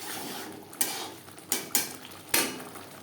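Ground spices being stirred into a pan with a utensil, four sharp scraping clinks against the metal spaced irregularly over a quiet kitchen background.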